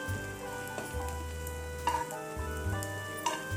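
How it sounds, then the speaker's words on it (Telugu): Bread pieces fry in oil in a pan for a sweet dish, turned over now and then, giving a steady close sizzle with a few light clinks over a faint background hum. "అటు ఇటు తిప్పుకుంటూ కాల్చుకోవాలి"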